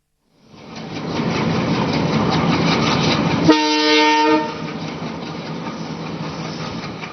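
A passenger train running on a railway approaches and passes with a steady rumbling roar, a short loud horn blast midway, then the rolling noise fades slightly, no voices.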